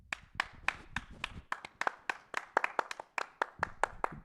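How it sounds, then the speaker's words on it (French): An audience claps for a biscuit-shop sponsor: a sparse, fairly quiet run of distinct hand claps, a few at first and then more together, each sharp and separate, with no talk over it. "on va poser le micro et on va applaudir la biscuiterie avec un accent comme ça"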